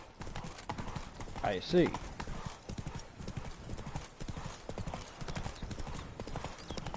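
Hoofbeats of Roach the horse in The Witcher 3: a steady clip-clop of trotting hooves, with a short whinny near the start, under quiet male speech.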